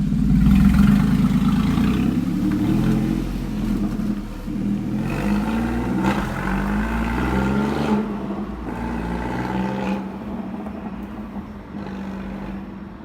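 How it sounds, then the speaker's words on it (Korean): A Porsche Boxster with remote-controlled variable exhaust valves open accelerates from a start, its engine note droning deep and loud and climbing through several rev rises and gear changes, heard from inside the car. "가변 온 했을 때 주행이에요"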